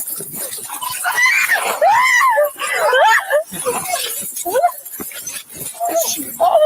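A woman police officer screaming and whimpering in high, wavering, pitch-sliding cries, loud and close, broken by short gaps, with other voices mixed in.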